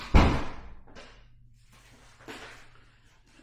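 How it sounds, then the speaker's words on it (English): A door shuts with a single loud, close thud, followed by fainter knocks and shuffling in a quiet room, with no voices. "Closing the door."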